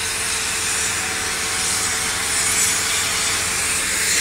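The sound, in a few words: sandblasting or sanding ship hull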